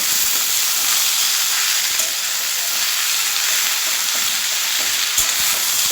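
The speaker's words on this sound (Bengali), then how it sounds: "পেঁয়াজ কুচি দিয়ে দিচ্ছি টমেটো আর লঙ্কা সবটাই দিয়ে দিলাম এলে দিয়েও এবার আমি এটা ভেজে নেবো" Chopped onion, tomato and green chili fry in hot oil in a pan with a loud, steady, close sizzle that holds unbroken throughout, with no voices.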